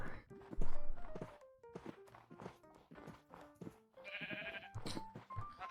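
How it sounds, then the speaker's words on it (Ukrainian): Several sheep bleat in a Minecraft world, a string of short, clear bleats spread across the clip with soft footsteps and block-like thunks between them. "Вівця!"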